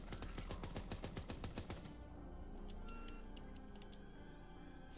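Turret gunfire in a space video game: a rapid burst of loud, closely spaced shots rattles for about two seconds, then gives way to quieter electronic pings and tones.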